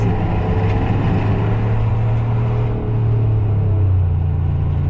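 A steady, deep exhaust rumble from a Dodge Ram pickup truck with a Flowmaster 10 style muffler, continuous and fairly loud, with a low droning tone throughout and no voices.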